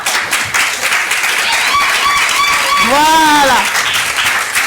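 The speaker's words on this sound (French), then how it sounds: "Est-ce qu'on peut accompagner notre ambassadrice avec les acclamations?" Audience applause and cheering for an ambassador at a challenge event, sustained clapping with high whooping and ululating cheers rising through it, and a short spoken word in the crowd.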